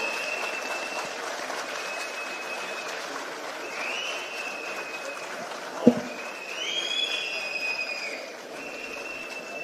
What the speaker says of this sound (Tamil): ஒரு பெரிய கைத்தட்டலும் கொடுத்துடலாம்.